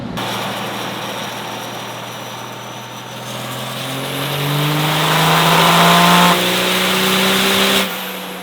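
Cummins diesel burnout truck making 1177 HP, its engine revving up loudly and steadily climbing in pitch over several seconds before cutting back sharply near the end, heard close with no talking.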